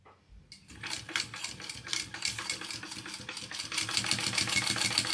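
A Kingmax sewing machine stitches at night, starting after a short quiet moment and then running in a rapid, even mechanical chatter that holds steady and grows slightly louder, close and alone.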